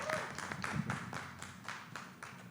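An audience at a public colloquium gives faint, scattered clapping, with uneven hand claps heard at a distance.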